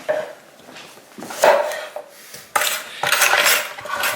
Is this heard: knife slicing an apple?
yes